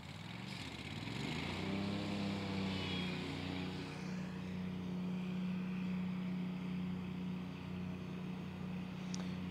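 A Wright ZK autonomous zero-turn lawn mower starts its mowing run, a steady loud engine drone with a strong low hum that holds evenly throughout, without talk.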